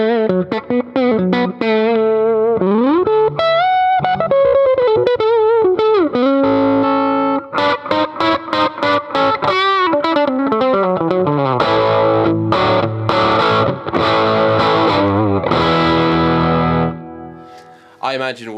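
Electric guitar played through a Bugera V5 valve combo amp turned all the way up, an overdriven, distorted tone of fast melodic runs, bends and chords ringing loudly before fading out.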